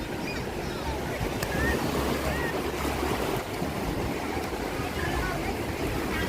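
Waves and wind at a busy Wasaga Beach, a steady wash of surf with buffeting wind noise on the microphone, continuous and fairly loud throughout.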